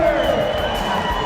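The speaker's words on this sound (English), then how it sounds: "you can hear the crowd reacting" Crowd noise rising and cheering at NBA Summer League 2016 basketball between the Milwaukee Bucks and Houston Rockets after a buzzer-beating three, a steady loud roar with indistinct voices mixed in.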